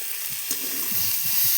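Chicken frying in a pan with turmeric and salt, a steady close sizzle and hiss with soft stirring scrapes and small crackles underneath, no voices.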